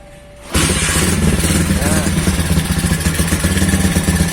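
A Honda CB100 motorcycle engine starts up abruptly and then runs at a loud, close, clattering idle with steady rapid pulses and mechanical rattle; a voice talks briefly.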